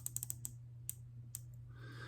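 Squale 1545 Atmos 30 dive watch bezel turning: a quick run of crisp, close ratcheting clicks, then two more isolated clicks, faint and alone.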